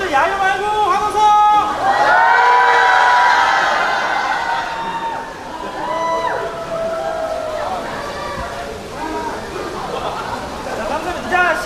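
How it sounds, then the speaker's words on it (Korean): Friends of a wedding couple cheer and shout during a bubble-and-kiss moment, a loud, dense burst of excited voices swelling early and then trailing off into lively crowd chatter. "친구분들 야유 말고 환호성"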